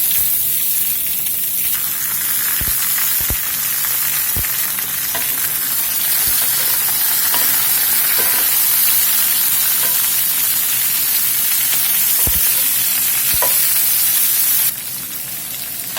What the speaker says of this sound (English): We're just going to let all this roast up here until stuff softens up and gets some good color on it.